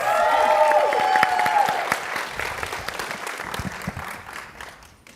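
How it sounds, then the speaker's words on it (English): An audience gives a round of applause for the panelists at a trans-inclusion workplace event, the dense clapping loud at first and then gradually thinning and fading over several seconds. "So one more round of applause for our panelists."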